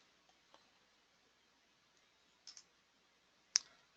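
Computer mouse clicks while placing and adjusting a sell order in the Lightspeed Trader platform: a few sparse, faint single and double clicks close by over quiet background hiss.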